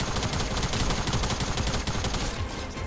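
Continuous rapid infantry rifle gunfire in Fortnite rattles loud and dense for a few seconds, the shots blurring into one sustained burst.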